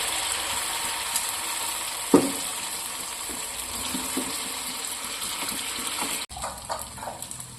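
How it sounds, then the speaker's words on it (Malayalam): Batter is ladled onto a hot pan greased with coconut oil, making a steady close sizzling hiss with a few faint clicks and scrapes, and the sound drops sharply near the end. "ഇനി നമുക്ക് ആ ഒരു മാവ് കോരി ഒഴിച്ചു കൊടുക്കാം."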